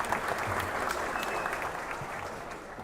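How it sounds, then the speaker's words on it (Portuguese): Crowd at a political rally in Maringá applauding a pre-candidate for federal deputy, a dense, continuous roar of clapping heard alone at steady loudness throughout. "Também uma salva de palmas para o nosso pré-candidato a deputado federal, Alan Leal."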